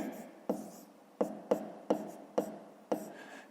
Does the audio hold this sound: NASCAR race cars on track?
no